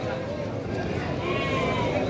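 A local male sheep of Texel-like type bleats, a drawn-out close bleat rising near the end amid people talking at a livestock sale.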